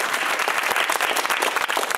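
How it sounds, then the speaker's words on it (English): Studio audience at a University Challenge quiz show between Lincoln College Oxford and Imperial College London gives loud, sustained applause, with thick rapid clapping throughout. "it is incredibly decent and gracious of you guys to applaud like that"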